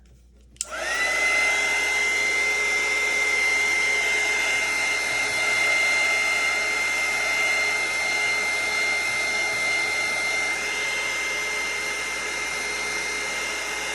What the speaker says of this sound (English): let's take our little dryer.